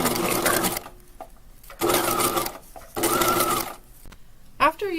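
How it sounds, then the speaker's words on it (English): A sewing machine stitches a tote bag strap in three short bursts of fast, close mechanical whirring, separated by pauses, with a brief sharper sound at the very end. "the sandpaper is that it's to the left of your needle, so you're not actually sewing through the sandpaper."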